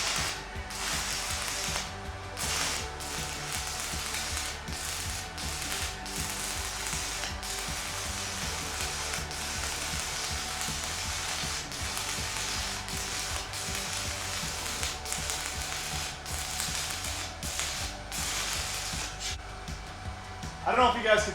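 A stick welding arc from a Titanium Unlimited 200 running a 1/8 6010 rod at 100 amps, short-arced close to the puddle, crackles and buzzes steadily and loudly for about twenty seconds.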